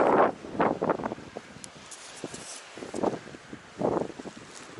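Gusty wind buffets the microphone outdoors near a lake, arriving as several loud, rumbling bursts separated by quieter lulls.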